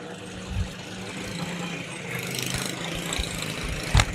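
A NASCAR Cup Series stock car runs on the big oval at the Brickyard, heard as a faint, distant engine drone that swells midway and holds at a low rumble.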